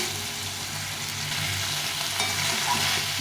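Vegetables and fish curry bubbling and frying in a pan, a steady close hiss with a low simmering rumble underneath, constant throughout.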